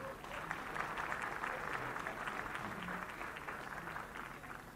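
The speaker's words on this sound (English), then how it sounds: "One more round of applause, please," Audience at an athletics hall of fame ceremony applauding in a hall, a steady, fairly faint wash of clapping that holds evenly throughout without voices.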